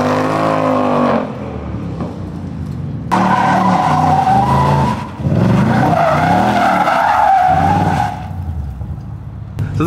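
Loud tire squeal as a Mustang drifts using a drift brake, the screech swelling and breaking off in several long bursts over a revving engine, close by.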